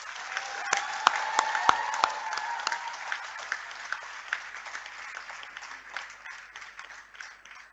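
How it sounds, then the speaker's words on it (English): A university convocation audience applauds the graduating students, scattered claps that build into a moderate round and then thin out, with a voice briefly audible over the start. "Let's have a round of applause for the graduating students."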